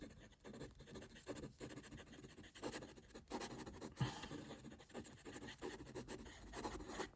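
A Jinhao 519 plastic fountain pen with a fine nib writes quickly across paper. The soft, steady scratching runs throughout, close and quiet, with short strokes and brief lifts of the nib.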